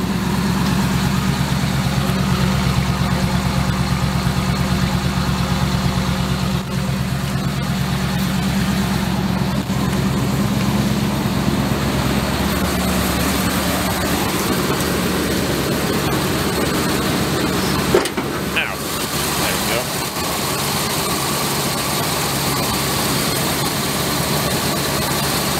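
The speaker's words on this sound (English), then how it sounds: "I thought I would do this little video and show how it sounds and everything. There it is, running." Engine of a Class B camper van idling steadily, a loud, continuous low rumble with an even drone that holds throughout and has no voices over it.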